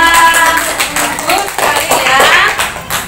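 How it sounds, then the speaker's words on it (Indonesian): A classroom of students applauds, giving loud, close and steady clapping that carries through the whole moment, with voices mixed in beneath it. "Kita beri aplaus"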